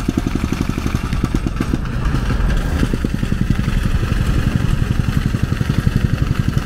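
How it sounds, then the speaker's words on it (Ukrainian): A petrol-powered vibratory rammer working on a road repair site, thumping in a fast, steady rapid-fire rhythm over its running engine, close and continuous. "Вібронога в нас працює на бензині."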